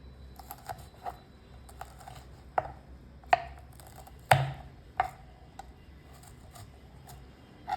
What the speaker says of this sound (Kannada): ತೊಟ್ಟನ್ನು ತೆಗೆದುಬಿಟ್ಟು ಈ ಥರ ಉದ್ದುದ್ದಕ್ಕೆ ಮೆಣಸಿನ್ಕಾಯಿನ ಪೀಸ್ ಮಾಡ್ಕೊಳ್ಳಿ.